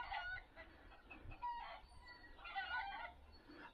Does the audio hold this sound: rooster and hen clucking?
yes